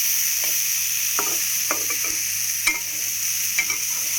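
Chickpeas are stirred in a pan over a steady frying sizzle, with scattered close spoon scrapes and clicks landing every half second or so.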